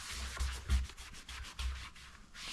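Sandpaper rubs by hand against an aftermarket part on a diesel BMW in short, rhythmic scraping strokes, close and fairly quiet, with no talk over it.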